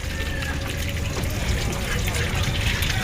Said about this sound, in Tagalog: drain muna ang tubig eh antayin mo lang maubos